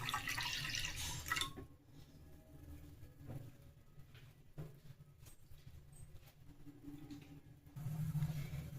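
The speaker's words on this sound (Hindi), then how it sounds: "एठी मु 1/4 कप पाखापाखि पानी देइछि आ गोटे फुल कप पाखापाखि मु क्षीर दे नौची" Water and then milk pour into a pot for tea, a short splashing gush at the start, then quiet trickles and drips, faint and close, with small clinks of handling.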